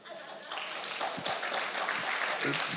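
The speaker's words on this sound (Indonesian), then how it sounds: "Ayo yang berkati tepuk tangan." An audience at a church worship workshop claps together, a sustained wash of applause rising after a moment and continuing steadily, with speech mixed in.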